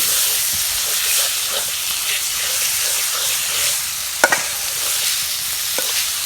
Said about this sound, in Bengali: হালকা করে যে কষাই নিচ্ছি এখন যে সরগুলো যে বাড়তি এগুলো দিয়ে দিলাম তেলের ভিতরে সুন্দর করে কষাই